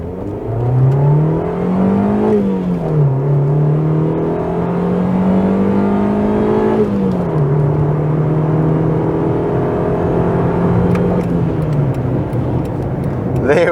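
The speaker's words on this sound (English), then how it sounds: "we're going to see how incredibly slow this car is by doing a 0 to 100 time." A Honda Civic EK1 engine revs hard through a 0 to 100 acceleration run, pitch climbing then dropping at gear shifts, steady and loud throughout with no talk.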